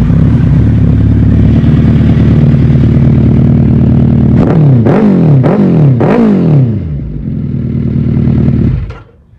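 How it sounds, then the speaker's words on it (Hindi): Loud, close Suzuki Hayabusa engine fitted with a custom slip-on exhaust, idling steadily, then revved in three quick sharp blips that rise and fall before it settles and cuts off. "स्लिपोन की आवाज़ थी, ये कस्टम एग्जॉस्ट थे।"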